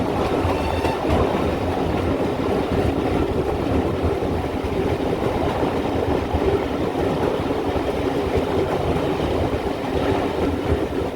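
Steam locomotive 4247, a heavy tank engine, runs along the Paignton and Dartmouth Steam Railway with a steady, loud rumble and continuous rhythmic clatter of carriages on the track, plus some wind buffeting, heard close and without voices.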